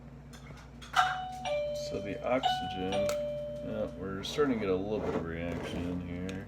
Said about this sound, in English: Disregard the doorbell,